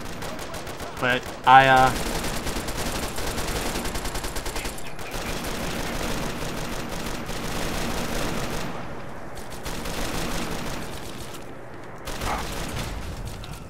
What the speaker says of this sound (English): Hit him with the machine gun.